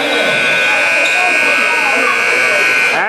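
A loud, sustained basketball buzzer ends the first half of a 2019 Brunson League game, sounding for about three seconds with crowd and commentary beneath it.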